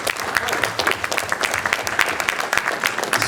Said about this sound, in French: on peut applaudir nos techniciens parce qu'ils sont formidables